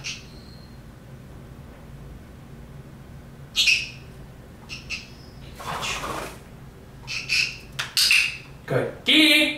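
Pet parrots give short, sharp squawks and calls during training, scattered in bursts of varying loudness over a quiet background, growing more frequent toward the end.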